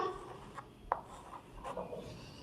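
Pen or chalk strokes scratching out numbers in a math lesson, a few soft, brief rubbing marks with one sharper tap, faint and close in a quiet room.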